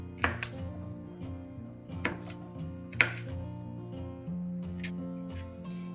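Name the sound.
knife chopping capsicum on a cutting board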